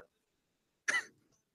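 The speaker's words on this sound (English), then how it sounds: "You still coughing?" A single short, harsh cough or throat-clear bursts out close and fairly loud after near silence, trailing off quickly with a faint rasp.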